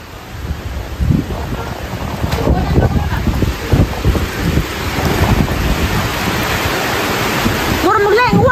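Heavy rain and wind in a storm roar loud and close, with gusty buffeting surges over a steady downpour and a voice speaking briefly within it.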